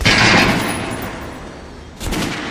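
Gunfire in the video game Metro: Last Light Redux, a loud close burst of shots followed by a second sharp report about two seconds later, with no talking.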